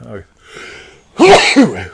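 A single sharp sneeze bursts out after a short breathy lead-in, close and loud.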